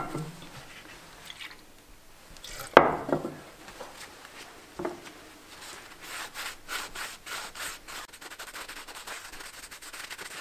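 Rubbing and wiping inside an oil pump housing with a rag soaked in thinner, producing close, scratchy friction strokes with a brief louder scrape, then steady repeated rubbing.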